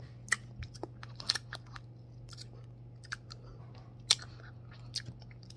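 Someone chews vanilla grapes up close. Crisp, wet bites and crunches come in scattered clusters over a faint low hum, and no one talks.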